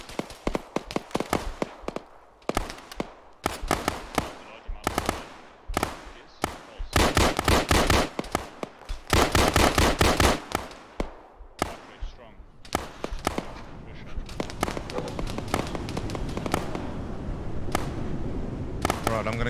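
Video game gunfire in sharp, loud bursts of rapid shots with short gaps between them, growing denser in the middle before giving way to a rumbling, sustained background roar.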